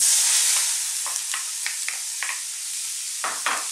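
Steady broadband sizzle of red onions frying in a hot pan, with scattered crackles and pops rising above the constant hiss; no voices.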